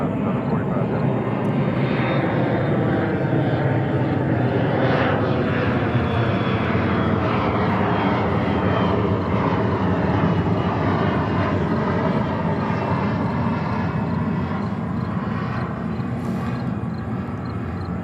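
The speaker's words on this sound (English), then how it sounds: "that's Delta Flight 99 coming in from Geneva on a 767-400." A Delta Boeing 767-400 airliner arriving from Geneva lands at JFK, its engines a steady, loud broadband roar that holds throughout, with a voice talking faintly underneath.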